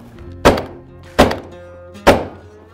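Three loud, close shotgun blasts fired at ducks during an Arkansas greenhead hunt, spaced under a second apart, each a sharp boom with a quick decay and no talking between them.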